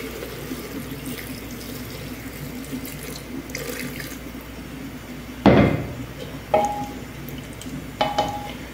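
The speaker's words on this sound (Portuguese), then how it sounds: "eu vou colocar a quantidade de água pra ele já cozinhar" Water running from a tap into a cooking pot for pork, a steady rushing flow followed by several sharp clunks and splashes of the pot being handled.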